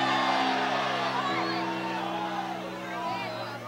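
A church congregation shouts and whoops in praise, a loud crowd roar that swells at the start and then slowly fades.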